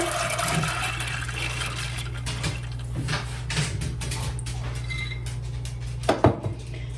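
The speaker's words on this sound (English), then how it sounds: "you're going to take a pan and dump all your beans in there with the water." Water and beans splash and pour into a pan with clinks of metal and rattling, over a low steady hum, ending in a few sharper knocks.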